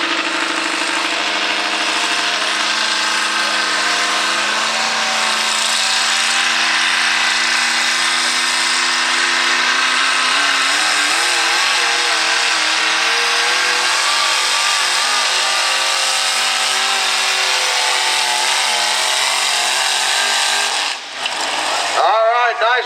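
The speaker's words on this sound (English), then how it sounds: "All right, nice run there for Mike, the good tractor." A modified single-engine tractor at a county tractor pull roars loudly and continuously for about twenty seconds under heavy strain, the pitch wavering as it pulls, before cutting off near the end, with faint announcer talk beneath.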